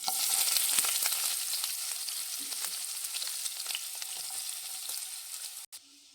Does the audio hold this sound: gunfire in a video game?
no